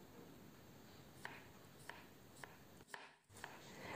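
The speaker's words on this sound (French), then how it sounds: "j'ai pris deux pommes de terre, je les ai épluchées comme vous avez suivi, et je les coupe en fines tranches" Knife slicing peeled potatoes into thin slices on a board, about five faint evenly spaced cuts over a low background hiss.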